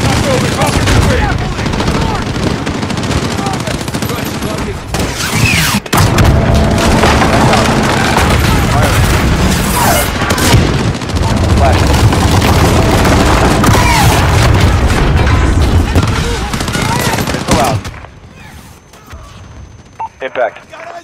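Heavy airstrike blasts and rumbling explosions roll through a Call of Duty: Modern Warfare embassy mission, loud and sustained with booming impacts and gunfire mixed in, then cutting to a quieter tail near the end.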